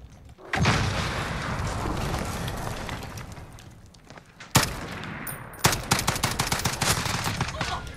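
Rapid bursts from the FAL OSW in its CQC variant in Call of Duty Modern Warfare, loud and close, with a sustained string of fire, a brief lull, then a sharp crack and a further run of rapid shots.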